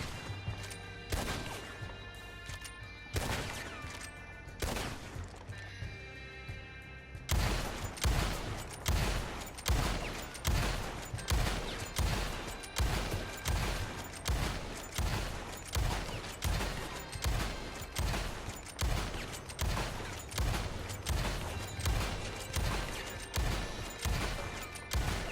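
Gunfire from an Evans Repeater and a Lancaster rifle in a video game, a few scattered shots with mechanical reload clicks, then a long run of loud, evenly spaced rapid shots cracking out one after another.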